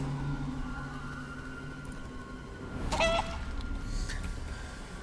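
Chicken clucking in the Divinity: Original Sin 2 video game, with faint fowl calls over steady game ambience and a louder burst of effects near the middle.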